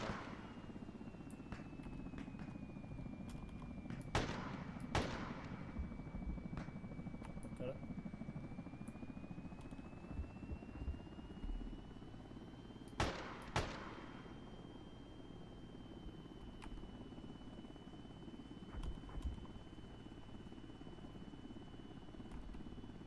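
Distant aircraft drone hums steadily through a military video game battle, broken by a few sharp bursts of gunfire and scattered pops, with people talking over it.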